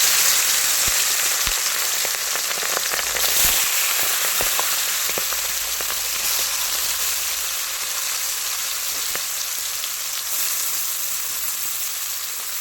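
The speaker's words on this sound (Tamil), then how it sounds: "இப்போ நெத்திலி கருவாடை நம்ம அதில் போட்டுக்கலாம் பொரிக்கிறதுக்கு." Steady, dense sizzling and crackling of dried anchovies frying in hot oil, continuous and close, with occasional sharper pops.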